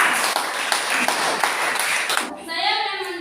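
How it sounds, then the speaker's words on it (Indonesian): Classroom applause for a student group during a lesson on Indonesian history, a burst of brisk hand clapping lasting a couple of seconds before dying away into a faint ringing tone. "tepuk tangan untuk kelompok 2"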